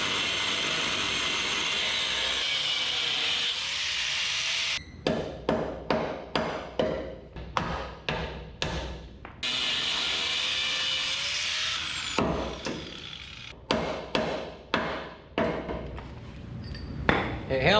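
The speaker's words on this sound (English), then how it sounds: "then we can hammer on it, knock it off" Sharp metal hammer blows knock welds off the frame of a 1963 International Harvester Loadstar truck, coming in quick close clusters between stretches of loud grinding or cutting noise.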